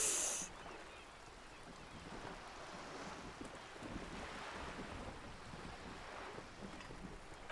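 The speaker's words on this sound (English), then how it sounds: "The wind flaps the sail above her." Wind buffeting a ship's sail in Disco Elysium, a soft, steady rush of wind and surf with gentle flapping swells, fairly quiet and continuous.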